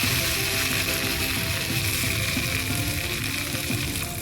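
Curry leaves crackle and sizzle in hot tempering oil with mustard seeds, cumin and chillies for a ridge gourd tambuli, a steady dense frying hiss that runs throughout with no one speaking.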